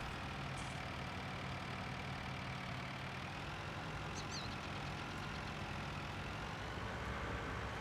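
Steady droning of a John Deere tractor engine idling in Farming Simulator 19, with a heavy weight on the back, a constant low rumble that stays even throughout with no talk.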